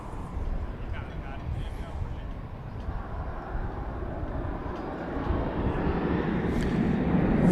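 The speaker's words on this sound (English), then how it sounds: "There goes American 1104. Destination Boise, Idaho." American Airlines jet departing Dallas Fort Worth at night, a broad engine rumble slowly building louder toward the end, with faint voices in the background.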